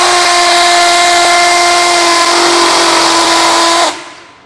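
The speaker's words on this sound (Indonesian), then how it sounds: "ini aja dah 7 kali aku drill." A Black & Decker EVO power drill runs loud and steady with a high, tonal motor whine for nearly four seconds, then cuts off and spins down quickly.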